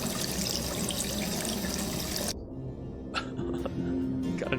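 A tap in the video game Rue Valley runs in a steady, loud rushing stream for about two seconds, then cuts off, followed by faint drips and small clicks.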